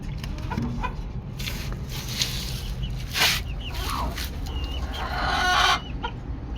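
A native desi chicken clucks close by among other poultry, with repeated short clucks and a louder call near the end over a steady farmyard background.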